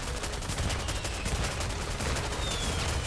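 Sustained rapid gunfire shooting at a turret in the mobile shooter Goddess of Victory, a dense steady stream of shots with no talking.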